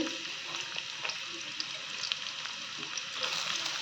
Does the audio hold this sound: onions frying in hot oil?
yes